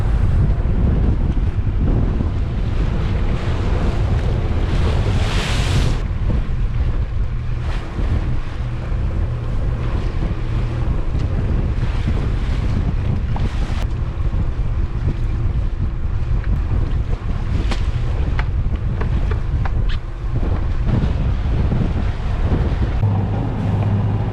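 A sailboat crossing in Denmark from Samsø to Grenaa meets 20-25 knot winds; loud gusts roar across the microphone while the hull slaps and bashes through waves continuously, with no talking.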